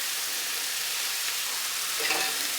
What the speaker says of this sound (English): I'm going to stir that in a little bit because we're going to want the frozen vegetables and everything to cook together for a bit.